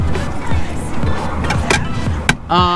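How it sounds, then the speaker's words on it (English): A Subaru WRX STI passes close by at night, its engine and tyre noise rising to a brief rushing swell over steady background rumble before fading. "That's a WRX STI"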